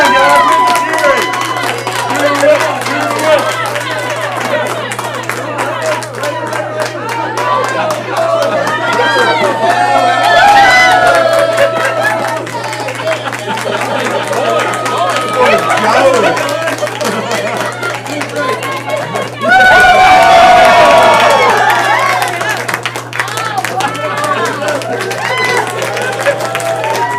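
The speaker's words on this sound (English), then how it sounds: "Come on, guys! Cheer them on!" Crowd at a team meeting cheers and claps, shouting and whooping in two louder surges over steady babble, with voices talking throughout.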